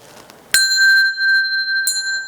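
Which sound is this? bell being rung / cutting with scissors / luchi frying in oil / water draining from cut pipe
bell being rung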